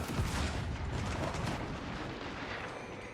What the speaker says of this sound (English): We got 3 great bombards here on the screen.